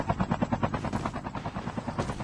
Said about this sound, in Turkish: Kafanıza helikopter attım.